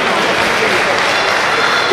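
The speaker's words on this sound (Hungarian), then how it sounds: "És Dr. Nagy Gergőnek is egy hatalmas tapsot szeretnék a Kalimáros publikumtól kérni." Dense, loud applause and crowd noise in a sports hall at a sporting event, a continuous wash of clapping with voices mixed in throughout.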